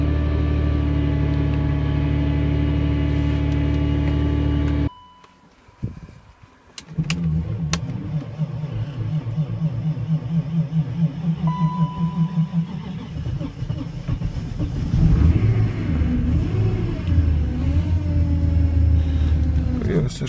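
A car engine cold-starting at minus 40 in Siberia: a steady idle, a pause, then cranking and a catch. The engine runs with a rough, uneven rumble and occasional revs rising toward the end.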